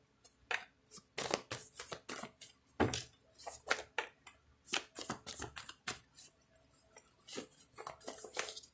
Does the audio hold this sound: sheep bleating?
no